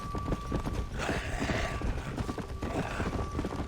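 Horse hooves galloping in Red Dead Redemption: Undead Nightmare, a steady rapid clip-clop rhythm with creaking tack under continuous game ambience.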